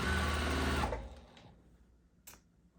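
A sewing machine whirs close and loud for about a second while sewing a partial seam on a quilt block, then stops, followed by a faint click.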